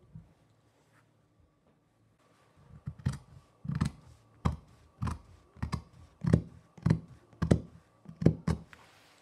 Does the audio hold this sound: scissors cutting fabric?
yes